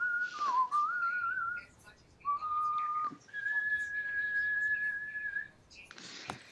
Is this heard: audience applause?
no